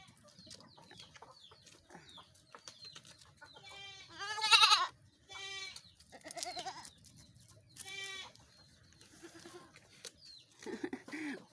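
Brason's goats bleat in a handful of loud, wavering calls from close by, with a longer cry in the middle and shorter bleats following after gaps.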